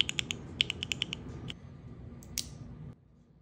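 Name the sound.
mechanical keyboard typing with Gateron Oil King switches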